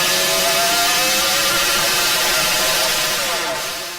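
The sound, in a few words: 712-pound flywheel spinning at about 2,000 RPM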